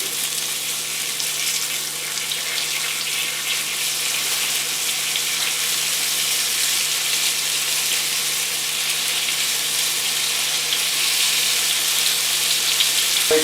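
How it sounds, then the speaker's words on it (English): Deer heart and liver frying in olive oil in a pan, a loud, steady crackling sizzle that runs unbroken throughout, close up, with a faint low hum beneath. "we're going to let this fry nice and crispy"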